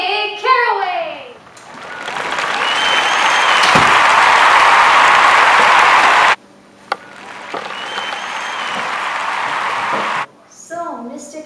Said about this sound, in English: May we please have a round of applause for our first guest, Mr. Nick Carraway!